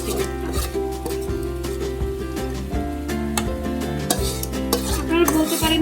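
Cooked egg bhuna being scraped and spooned from a pan into a bowl, with repeated metallic utensil clinks and scrapes over a faint background sizzle, close and fairly steady.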